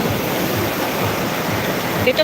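A stream swollen with high floodwater in Bicol rushes continuously nearby, a loud, steady hiss of flowing water with faint voices briefly audible at the end.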